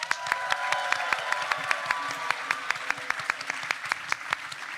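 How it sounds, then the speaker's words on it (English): An audience claps for a PowerPoint karaoke presenter, with sharp, distinct hand claps standing out over a steady wash of applause. "I need a round of applause for Andrea Ropella"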